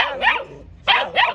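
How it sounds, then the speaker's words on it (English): Several pet dogs bark indoors near a door, loud and close, giving a couple of sharp barks, then a pause, then two more in quick succession. "Look at where they are barking."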